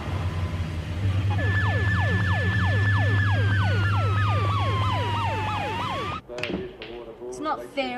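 An ambulance siren wails loud and near, its rising and falling tone sweeping repeatedly over an engine rumble before cutting off abruptly, followed by clattering and faint voices.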